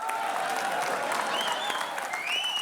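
Studio audience on a Hindi comedy show gives loud, continuous applause, a dense wash of clapping with some whoops and tonal sounds riding over it.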